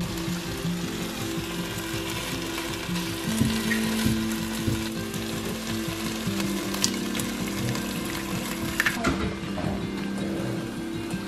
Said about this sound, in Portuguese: Baby vai fazer ovo com bacon